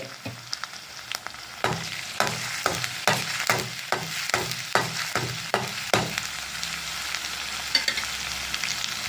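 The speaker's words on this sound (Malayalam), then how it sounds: "അത് കഴിഞ്ഞ് നമുക്ക് അതിലേക്ക് വെളുത്തുള്ളി നമുക്കിടാം. ഇത് നന്നായിട്ട് മൊരിയട്ടെ." Garlic fries in a pan as the base for beetroot thoran, a steady sizzle running throughout with a series of sharp, regular scraping strokes from stirring across the middle of the clip; no one speaks.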